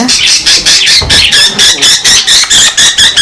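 A sick parakeet with diarrhea squawks loudly and repeatedly in harsh, rapid bursts, close up, with rustling underneath and no pause between calls.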